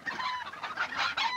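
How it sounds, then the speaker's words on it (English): Hens in the Richard Scarry's Busytown MS-DOS game give a short burst of busy, overlapping clucks, loud and up close. "Three hens."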